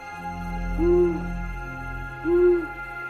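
A long-eared owl gives two low, soft hoots about a second and a half apart against a quiet night background in a pine forest, with no voices.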